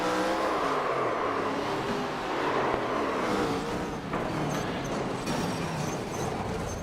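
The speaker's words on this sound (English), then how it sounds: "I can tell you that's the SB2 engine." A race car with an SB2 engine roars past on a racing circuit, a loud rising and falling engine drone with shifting pitch followed by scraping and tire squeal, no voices over it.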